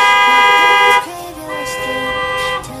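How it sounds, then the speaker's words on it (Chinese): A large Italian waterproof horn fitted to a VJR scooter gives a loud, close blast that cuts off after about a second. Shorter, quieter toots and honks follow, with some background noise. "我们的喇叭是意大利的防水喇叭，尺寸比一般的来的大"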